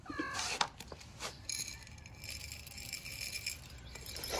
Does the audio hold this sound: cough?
no